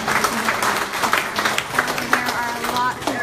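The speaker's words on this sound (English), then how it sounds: "Let's give him a round of applause." Audience applause at the opening of a new museum exhibit in Guam, a dense burst of many hands clapping with scattered louder claps, loud and close, while a voice speaks over it.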